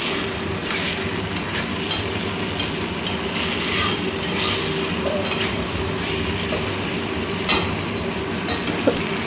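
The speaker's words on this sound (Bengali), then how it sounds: "একটু যে ভেজে রাখা পটলগুলো দিয়েছিলাম সেগুলো দিয়ে খানিকক্ষণ কষতে হবে" Fried pointed gourd is sautéed in spice paste in a pan, giving a loud, continuous sizzle with scattered scraping and clinking as the pieces are stirred.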